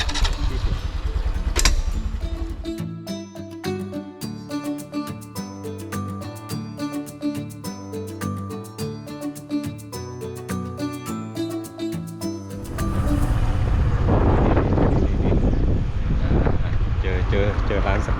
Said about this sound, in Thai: การขี่มอเตอร์ไซค์ตากลมนี่คือช่วยให้ฟินมาก